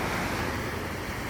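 Big sea waves crash and roll at a beach, a continuous loud wash of surf with wind buffeting the microphone.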